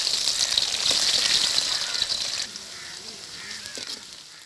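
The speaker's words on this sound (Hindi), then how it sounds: "सबसे पहले डालेंगे हम इसमें प्याज।" Onions dropped into hot desi ghee, giving a loud hissing sizzle that eases after a couple of seconds into a quieter steady fry.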